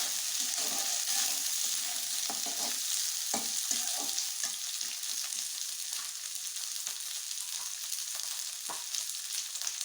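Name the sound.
frying green peas with fried onions in a pan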